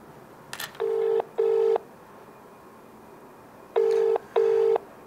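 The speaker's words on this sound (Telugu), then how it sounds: "మళ్ళీ కాల్ చేద్దాం సేమ్ నెంబర్కి." A telephone number is keyed in as clear electronic DTMF tones: two quick beeps, a long pause, then two more, each tone steady and even over faint background hiss, with a short click before the first pair.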